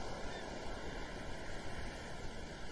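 Sea surf rolling in at the shore, a dense continuous wash of breaking waves with a gentle surging rhythm, fairly near and steady for the whole stretch, with no voices.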